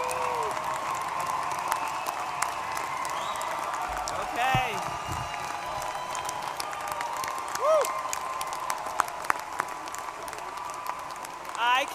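Sustained applause from a large crowd at a university commencement for graduates, with scattered cheers and whistles rising above the steady clapping throughout.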